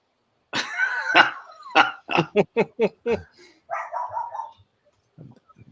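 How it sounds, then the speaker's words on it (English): A dog nearby lets out a rough opening bark followed by a quick run of sharp, evenly spaced barks, then a softer trailing whine, fairly loud against a quiet room. "That's a really close proximity for a dog to be near you and not be your dog."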